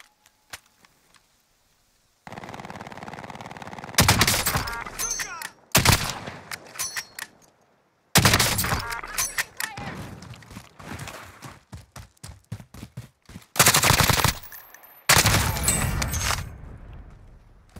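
Video game sniper fire crackles in sharp bursts of shots and impacts, loud and close, broken by short silent gaps.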